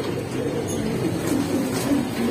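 Pankhi pigeons coo in soft, low calls close by, heard over a dense background hum.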